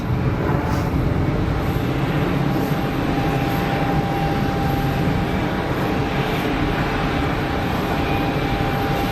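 Loud, constant broadband roar of an airliner with IAE jet engines at Geneva Airport, close and unchanging throughout with a faint steady tone inside it, no talking.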